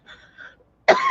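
A soft breathy sound, then a single abrupt, close cough at the end.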